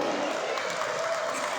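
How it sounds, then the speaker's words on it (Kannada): An audience at a song launch event for the film Krishnam Pranaya Sakhi gives Shashi sir a round of applause: dense, steady clapping that fills the whole moment at a constant level, with no single voice standing out. "ನಮ್ಮ ಶಶಿ ಸರ್ಗೆ ಜೋರು ಚಪ್ಪಾಳೆ ಒಂದು"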